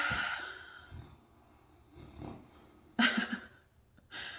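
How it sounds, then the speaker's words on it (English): Soft snoring from a dog: uneven snuffling breaths and snorts, quiet and close, with a couple of sharper nasal bursts. "my dog's snores are going crazy"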